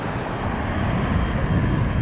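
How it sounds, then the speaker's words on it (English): A fixed-wing airliner doing a go-around at Southwest Florida International Airport makes a loud, steady engine roar that fills the whole stretch without a break. "very first aviation capture of today here at Southwest Florida International Airport is a go-around"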